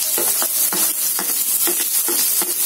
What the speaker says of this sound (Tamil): சோ இது வந்து ஒரு 1 மினிட் நல்லா வந்து கொஞ்சம் அப்படியே வதங்குற மாதிரி வந்தா போதும்